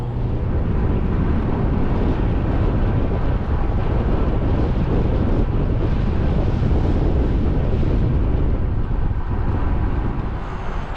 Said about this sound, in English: It's been a blockhead wind really from Riccall all the way back to Ullerskelf and Grimston Bank.